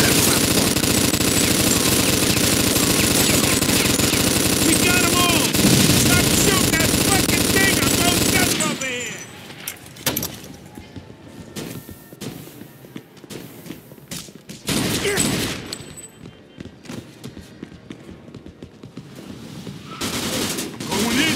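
Enemy gunfire from a window in the Mafia II video game bursts as dense continuous automatic fire for several seconds, then breaks into scattered loud shots and thuds amid quieter pauses.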